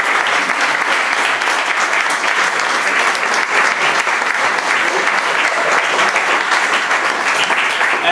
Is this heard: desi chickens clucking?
no